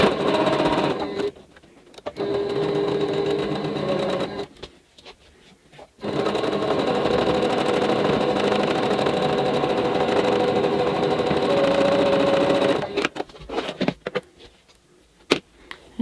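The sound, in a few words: sewing machine stitching a tulip quilt block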